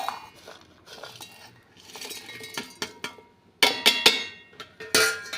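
Crab curry gravy being stirred in a cooking pan, with a utensil clinking and scraping against the metal in irregular bursts, getting louder and sharper toward the end, no talk.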